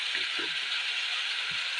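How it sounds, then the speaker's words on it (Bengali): Fried eggplant pieces going into a thick tomato masala in a hot pan, a steady broad sizzle throughout with a few soft low thuds as the pieces drop in. "মশলাটাও একেবারে ভাজা হয়ে ঘন হয়েছে এবার আমি ভাজা বেগুনগুলো দিয়ে দেবো"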